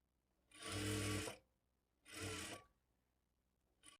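A sewing machine stitches blouse lining in two steady whirring runs, the first longer than the second, close and fairly quiet, with a brief start at the very end.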